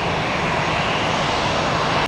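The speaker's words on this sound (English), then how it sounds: "I think that 757's taxiing on both the right and the left side." A Boeing 757 jet taxiing at Tampa International Airport gives off a loud, steady broadband roar and whine, close and continuous for the whole brief moment.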